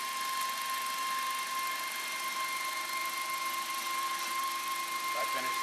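A metal lathe takes a 50-thousandths cut while turning a part to diameter, giving a steady, even mechanical hum with a sustained whining tone that holds throughout.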